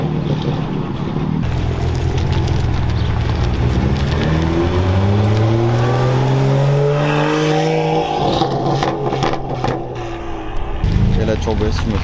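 Lamborghini convoy with a Porsche 911 Turbo S and BMW M2 driving past, one engine swelling in a loud rising rev before fading, under someone speaking French.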